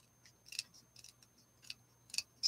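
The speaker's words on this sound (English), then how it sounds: "I'm just going to trim it on this side a bit." Scissors trimming the edge of a paper doll cutout for mixed media art, a few separate crisp snips spread over a quiet pause with no talk.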